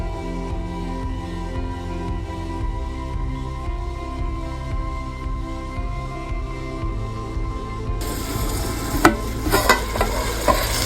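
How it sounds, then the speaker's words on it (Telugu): Marinated chicken pieces fry in oil with a steady close sizzle, with stirring noises and a louder scraping clatter near the end; no one speaks. "ఈ పీసెస్ తీసి ఒక్కొక్కటిగా వేసేసుకుందాం. కాసేపు బాగా వేపుకుందాం ఆయిల్లో."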